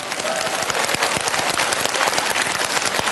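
A church revival congregation breaks into sustained, dense applause that fills the space evenly for several seconds, loud and close, with no voice over it.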